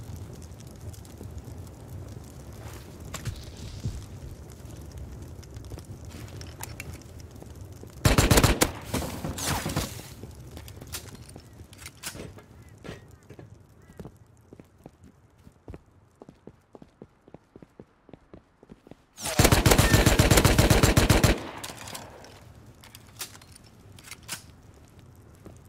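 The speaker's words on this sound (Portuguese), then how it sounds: "De onde vem esse tiro?" Two loud bursts of rapid gunfire in the video game Rust, each lasting a couple of seconds, stand out over steady background noise and scattered clicks and footsteps.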